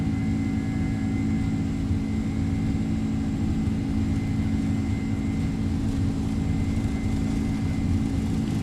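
Boeing 767-300 jet engines in the X-Plane 12 flight simulator roar steadily at takeoff thrust, a constant loud drone with no talking.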